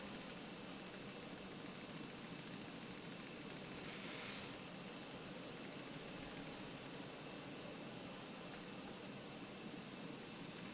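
A jet airliner engine in Microsoft Flight Simulator 2020 gives a steady, faint broadband roar with a high whine, continuous and unvarying throughout.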